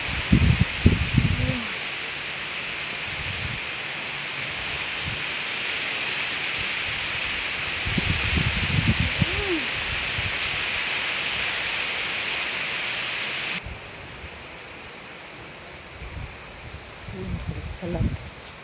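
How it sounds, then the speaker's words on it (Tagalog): Strong typhoon wind roars through a vegetable garden with tomato plants, a loud continuous rushing hiss with rustling bursts from the plants, dropping somewhat in the last seconds. "Ang lakas sila ka ng hangin dito."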